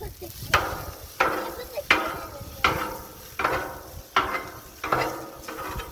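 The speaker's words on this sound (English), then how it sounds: "we're going to take that and we're going to smash it all up here and let that start to cook on this side of our griddle" Raw sausage being smashed and broken up with a metal spatula on a hot Blackstone griddle, sharp scraping strikes landing about every half second to second, each followed by a brief sizzle tail, close and distinct.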